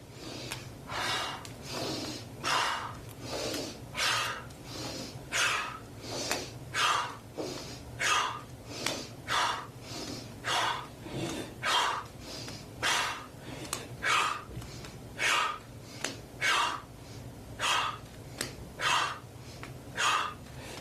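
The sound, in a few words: deep yoga breathing, inhaling and exhaling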